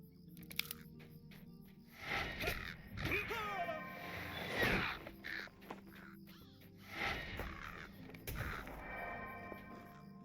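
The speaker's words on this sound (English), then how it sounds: "Two crows gone." Crows caw repeatedly in the Lord of the Rings Online video game, with several harsh, rasping calls in bursts spread over about ten seconds and quiet background sounds between them.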